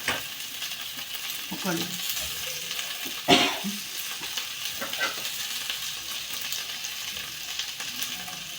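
Boiled potatoes fry and get stirred in a pan over a high gas flame for a sabudana khichdi, giving a steady soft sizzle with scraping stir strokes and one sharper clatter partway through.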